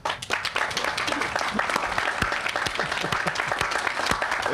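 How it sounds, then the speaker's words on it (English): A community gathering gives a round of applause, dense sharp clapping that stays loud and even throughout. "you deserve a round of applause by your people"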